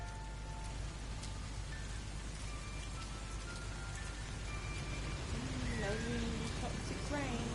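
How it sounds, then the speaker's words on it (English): Toxic rain in the video game No Man's Sky falls as a steady, even hiss of rainfall, with a voice speaking briefly over it toward the end. "Toxic rain."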